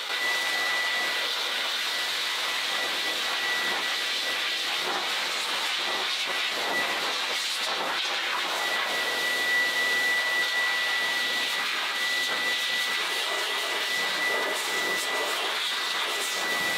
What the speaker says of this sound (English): use the Metrovac Master Blaster to remove the trap water and to eliminate the chance of any drips